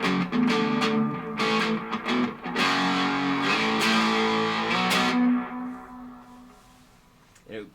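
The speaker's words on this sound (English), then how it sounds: "Turn the mode switch on. You can hear what it sounds like with that." Electric guitar through an Electro Harmonix Memory Toy analog delay with the mode switch on, playing gritty chords and notes whose repeats smear together, then trailing off into a fading echo tail.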